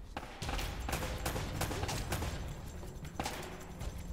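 Rapid gunfire from Uncharted: Drake's Fortune on PS4, a dense continuous fusillade of overlapping shots that stays loud and close throughout, with faint talk mixed in.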